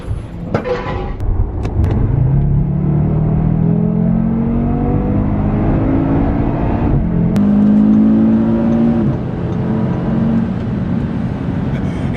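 A 2019 Audi RS3 saloon drives along a road in France, its engine climbing steadily through the gears with a rising drone and a brief shift dip, loud and close from inside the car.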